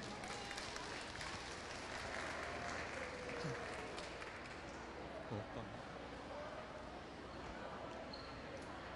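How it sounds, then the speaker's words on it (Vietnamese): Audience applauds child performers at a Halloween show, a steady wash of clapping with voices and scattered knocks mixed in underneath. "Một tràng pháo tay thật lớn cho các em."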